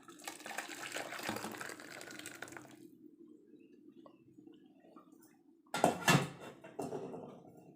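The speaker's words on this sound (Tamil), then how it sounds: "இப்போ நம்ம ரசத்தை எடுத்து வேறு பாத்திரத்துக்கு ஊற்றி வச்சிடலாம்." Rasam is poured from a cooking pot into another vessel in a home kitchen, a steady liquid splashing stream for a few seconds, then a quiet gap and a louder burst of pouring and clinking near the end.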